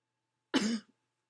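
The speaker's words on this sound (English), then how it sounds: "My coughing is just getting worse and worse." A single harsh cough, close and fairly loud, in otherwise quiet surroundings.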